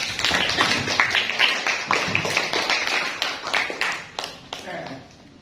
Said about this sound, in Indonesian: Kalau itu ya dikasih tepuk tangan ya